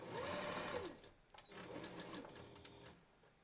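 Sewing machine stitching wolf head fur for a costume, a steady close mechanical whir running continuously with a brief pause midway.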